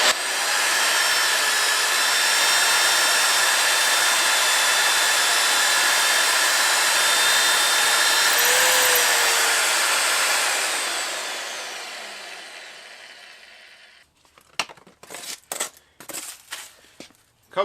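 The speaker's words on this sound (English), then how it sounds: "the annular cutters because these are fast and hurry and just cut some holes in that piece of plate" Annular cutter with a spring-loaded pilot pin drilling through steel plate, a loud steady whirring grind for about ten seconds that fades out, followed by several sharp metallic clinks and knocks.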